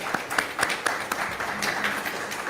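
Scattered, moderately faint clapping from the audience at an NAACP listening session, with individual claps standing out over room noise.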